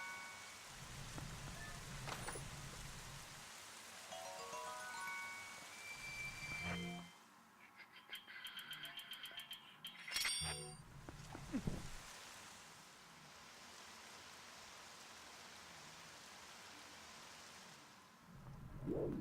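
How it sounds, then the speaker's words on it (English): Steady rain hisses throughout a scene in the video game Zelda: Twilight Princess, a soft even wash of falling water beneath scattered game sound effects and chimes. "Stop raining."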